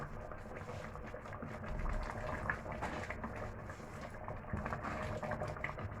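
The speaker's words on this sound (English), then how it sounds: "let's wait so that our ogbono will boil very well" Ogbono soup boiling in a pot, with a soft steady bubbling simmer and low, continuous liquid churning heard up close, with no talking.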